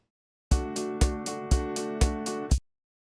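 A short trimmed section of a drum kit sample in Soundtrap: five loud, evenly spaced hits about half a second apart, each with a booming low thump, cymbal wash and lingering tonal ring, ending abruptly.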